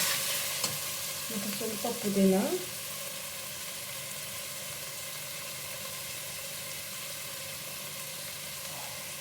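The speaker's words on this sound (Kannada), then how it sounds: "ಪುದೀನ ಮತ್ತು ಕೊತ್ತಂಬರಿ ಸೊಪ್ಪು ಸ್ವಲ್ಪ ಈ ಎಣ್ಣೆ ಜೊತೆಲೇ ಸ್ವಲ್ಪ ಫ್ರೈ ಮಾಡಿಕೊಂಡ್ರೆ" Mint and coriander leaves fry in oil, with a short burst of stirring and sizzle near the start that settles into a faint steady hiss, under a brief spoken phrase.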